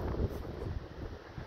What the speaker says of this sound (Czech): jak se melou stromy